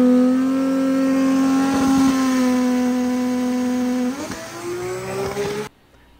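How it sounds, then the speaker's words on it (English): A 2500 horsepower 2JZ engine race car screams down a racetrack, a loud sustained high-revving tone that holds steady, shifts briefly, then climbs again before cutting off abruptly. "can you compare it to a 2500 horsepower 2JZ going down the racetrack?"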